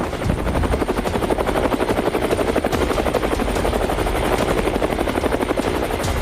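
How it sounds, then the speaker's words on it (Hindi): A helicopter's rotor chops loudly and steadily overhead in a fast, constant thudding rhythm, with a continuous engine whine. "और रूस से हेलीकॉप्टर का एक काफिला यूक्रेन की तरफ बढ़ चला।"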